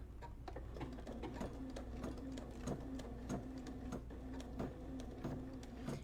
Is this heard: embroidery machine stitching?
yes